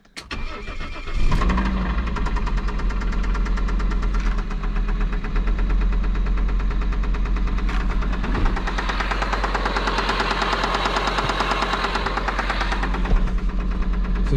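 A Fiat Marea car engine cranks and catches, then runs with a loud, heavy knocking rattle through its idle, close and continuous with no talk.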